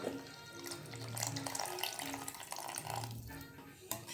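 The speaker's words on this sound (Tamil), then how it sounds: "கரைச்சி வச்ச புளி தண்ணி" Tamarind water pours and splashes steadily into a pan of fish curry close by, a continuous watery gurgle with faint clinks.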